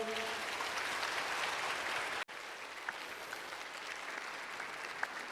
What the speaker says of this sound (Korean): 여러분 큰 박수로 맞아 주십시오